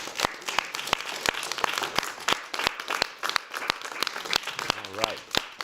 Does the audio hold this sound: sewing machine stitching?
no